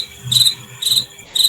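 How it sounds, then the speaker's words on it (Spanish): Cricket chirps played as a comic sound effect during a silent pause in a class, three short trilled bursts repeating evenly, fairly loud and clear with no talk over them. "Ponele grillo"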